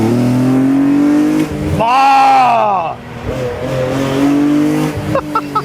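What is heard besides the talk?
BMW E46 M3 racing engine revving and accelerating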